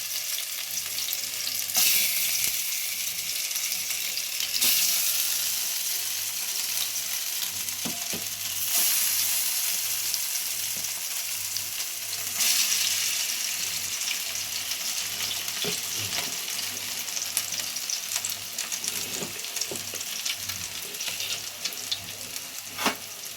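Rui fish kebabs fry in ghee in a hot wok with a continuous loud sizzle and crackle, broken by occasional sharp clinks and scrapes from stirring.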